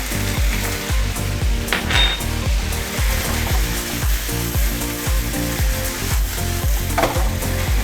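Beef stir-fried with sha cha sauce over high heat in a pan, a loud steady sizzle broken by rhythmic scraping and clanking of the spatula tossing the meat, with no voices.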